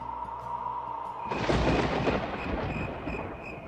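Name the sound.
thunder sound effect for a storm in a horror story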